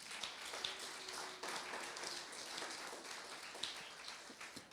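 A church congregation applauding for Jesus Christ, a steady spread of soft clapping that sounds fairly distant and quiet, with no voices over it.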